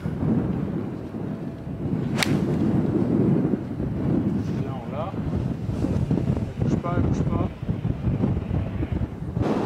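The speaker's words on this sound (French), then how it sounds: "Ah là, le vent qui se lève, ça va tout changer." Wind rising and gusting across a links golf course at Ardglass, battering the microphone with a loud, continuous low roar that swells and eases throughout.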